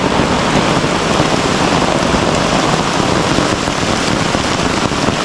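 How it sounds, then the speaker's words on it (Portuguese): Heavy rain pours down in a dense, constant hiss on a makeshift camp shelter, loud and unbroken throughout, with no voices. "tá chovendo muito e o rosto tá lá na chuva, todinho molhado"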